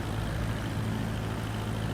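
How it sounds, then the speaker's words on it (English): A light aircraft engine in Microsoft Flight Simulator 2024 on a light cargo flight, a steady low, rumbling drone at low RPM, continuous and fairly quiet, with no talking. "Kick the engine on a little bit."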